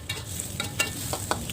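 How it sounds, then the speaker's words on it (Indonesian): Shallots and garlic are stir-fried in hot oil, with a close crackling sizzle punctuated by quick scrapes and taps of a spatula against the pan. "Langsung aja ditumis bawang merah dan bawang putihnya di minyak yang udah panas"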